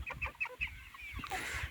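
Backyard chickens cluck in a quick run of short, close notes, then a softer cluck and a brief rustle near the end; faint and alone, with no voices.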